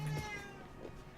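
A single short cat meow, close and fairly clear, lasting about a second over a soft steady background hum.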